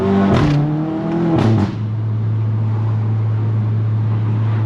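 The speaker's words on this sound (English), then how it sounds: "I hear the exhaust, I hear the intake, the pops and bangs" A VW MK7 GTI fitted with a MAP downpipe revs hard twice, its exhaust rising and falling in loud close blips before settling into a steady droning idle.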